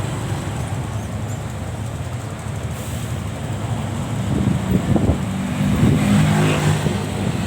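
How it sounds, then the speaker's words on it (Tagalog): Road traffic on Boracay Island in Malay, Aklan, heard as a steady, moderately loud rumble of passing vehicles with engine drone and occasional revving that swells toward the end, with no voices over it. "Traffic ng konti mga kabarada dito sa area."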